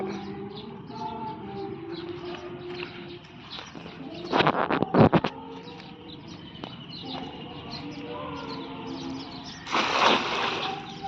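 Birds call and coo intermittently in an open outdoor setting during morning fishing, with a couple of louder bursts of sound partway through and near the end.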